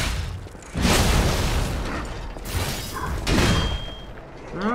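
Cannon blasts in the Lies of P action game: deep, loud booming thumps with broad rumbling bursts, several heavy hits spaced over a few seconds amid game effects, with no talk.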